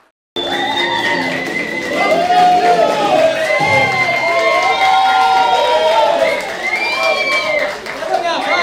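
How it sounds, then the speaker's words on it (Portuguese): A stand-up comedy audience cheers, whoops and shouts in a loud, sustained roar of overlapping voices, rising and holding after a brief silent start. "Bacana essa recepção, gritaria e tal."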